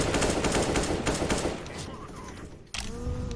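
Rapid gunfire rattles in a first-person shooter match, dense bursts up front that thin out, then a sharp cut to quieter game sounds, with a voice talking faintly.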